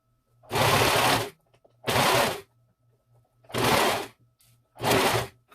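A sewing machine runs zigzag stitches along a fabric ruffle edge for recycled-curtain pillows, four short, loud bursts of rapid whirring with pauses between, close and without talk.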